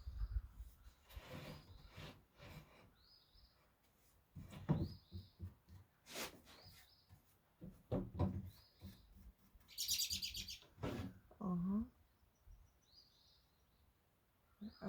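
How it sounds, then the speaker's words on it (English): Small birds singing loudly nearby: repeated sharp chirps and high twittering phrases scattered throughout, with brief gaps between calls. "It seems like some of the loudest birds are the smallest."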